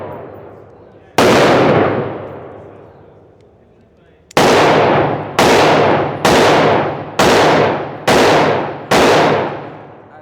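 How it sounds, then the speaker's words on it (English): A Glock 25 Gen 3 .380 pistol fires at the range: a single loud, sharp shot, a pause, then a rapid string of five close gunshots with ringing decay between them. "I give y'all the mag dump out of the 380"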